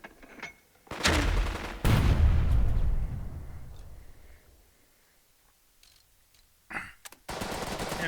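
An MG squad lets loose with machine gun fire in the Burden of Command war game, loud sharp bursts that ring out with a decaying tail. A second burst comes near the end.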